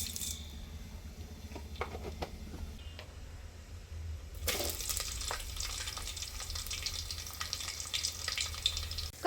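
Fenugreek seeds dropped into hot oil at home cooking on a gas stove: a quiet background hiss, then a sudden sizzle about halfway through that swells and keeps crackling steadily to the end.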